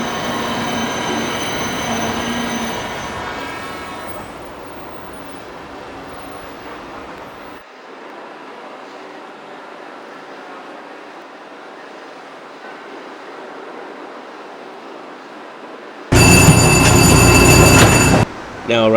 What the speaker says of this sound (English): Now arriving on track 7 is a Florida Limited southbound local service